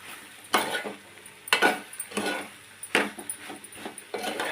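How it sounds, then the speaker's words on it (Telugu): Raw banana curry stirred in a pan, the spoon scraping in four or five sharp bursts against a low steady sizzle, near and moderately loud with no talking. "కలుపుతూ ఉంటే ఏంటంటే అన్నీ కలుస్తాయి, సమానంగా మగ్గుతుంది."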